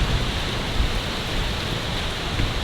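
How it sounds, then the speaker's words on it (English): Dense, hissing patter of ice pellets driven by gusty wind at Harrison Lake in fall, a constant close crackle with no voices. "it is like spitting out these ice snow pellets"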